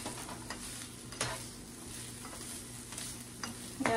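Potatoes and turkey bacon cook in a pan, a faint, steady sizzle with occasional soft scrapes and clinks of a utensil, quiet and close, with no voices.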